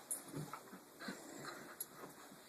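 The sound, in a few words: puppy whimpering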